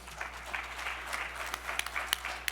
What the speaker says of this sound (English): All right, round of applause for Mr.